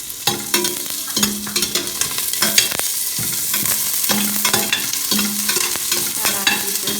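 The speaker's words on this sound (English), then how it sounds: "I'll be just frying it till the brownness goes or the onions turns golden brown" Onions sizzling in a hot pan while a utensil scrapes and stirs them in repeated strokes, close and busy, with no talking.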